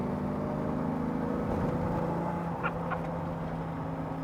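A Lamborghini Diablo's exhaust drones with a steady, low, burbling engine tone that holds continuously at moderate loudness, with a brief rougher blip partway through and no talking over it.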